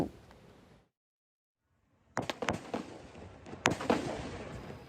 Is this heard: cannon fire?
yes